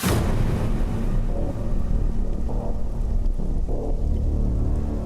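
Steady heavy rain hiss fills the scene, dense and continuous, with faint low rumbles beneath.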